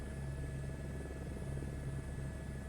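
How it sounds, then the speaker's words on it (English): Steady engine drone of a plane or helicopter flying in Microsoft Flight Simulator 2024, a continuous rumbling hum with a faint rhythmic pulsing and no voices. "Let's see if we can not crash the plane or the helicopter."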